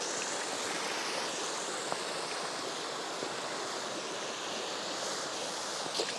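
Autumn creek water rushing steadily, a broad, even hiss and wash that continues without a break and stands alone, with no talking.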